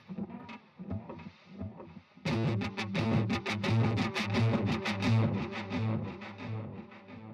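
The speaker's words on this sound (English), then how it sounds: "So here's just some delay." Guitar played through a delay effect after a Rat distortion pedal, loud distorted notes with repeating echoes trailing each strum, quieter at first then a dense sustained passage, no talking.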